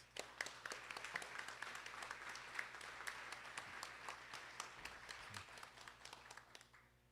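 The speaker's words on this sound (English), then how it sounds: "can we just give them just another round of applause, please?" Sustained applause from the audience at a board of education meeting, many hands clapping in a dense, steady patter for several seconds without a break, at moderate distance in a large meeting room.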